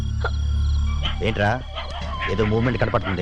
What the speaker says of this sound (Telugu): కుక్కలు అరుస్తున్నాయి అంతే